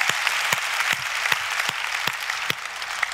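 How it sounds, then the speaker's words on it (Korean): A church congregation claps in thanks during a worship service, a steady dense wash of hands with sharper individual claps standing out at a regular rhythm, close and loud, with no voices. "하나님께 우리 박수로 감사하겠습니다."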